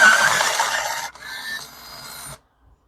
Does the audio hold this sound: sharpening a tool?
yes